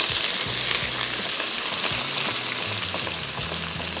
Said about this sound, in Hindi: सबसे पहले इसमें स्लाइस किए हुए प्याज शामिल किए, इनको थोड़ा सा करेंगे फ्राई